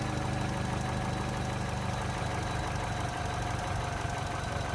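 A Velleman MK126 car alarm simulator kit puts out an electronic imitation of an engine, a steady, even buzzing drone that runs without a break at a moderate level.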